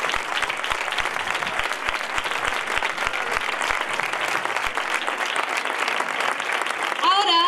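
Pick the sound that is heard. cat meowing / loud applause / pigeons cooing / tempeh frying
loud applause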